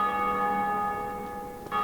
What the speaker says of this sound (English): The bells you're hearing right now is the Bell of Awakening